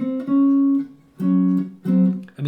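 A jazz guitar plays the melody of a tune alone: three sustained single-note phrases separated by short pauses, clean and close, with no voices.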